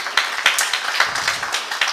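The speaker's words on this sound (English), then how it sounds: "Please, another round of applause to that debate." Audience applause following a debate on a panel show: a steady wash of many hands clapping, dense and fairly close, with sharper individual claps popping out irregularly throughout.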